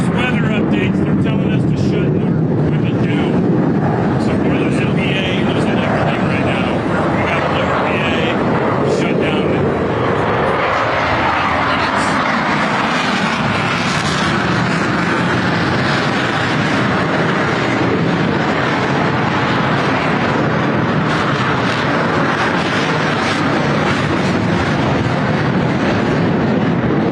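A Rhino fighter jet passes at an Independence Day airshow in Washington, DC, its broad roaring rush swelling and shifting midway while an announcer speaks over the public address.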